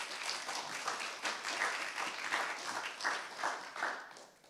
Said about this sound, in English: So a round of applause for Mercy.